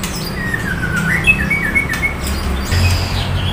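A female songbird in breeding condition calls from a bird shop kiosk in Condet, Jakarta, giving a series of bright, close chirps and squawks, with a louder flurry near the end.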